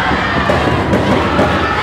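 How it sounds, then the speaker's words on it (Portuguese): A crowd of school students cheers at a final of school games in a gym or stand, a loud, dense wall of shouting and chanting voices that stays constant throughout without a break. "A torcida torcendo aí."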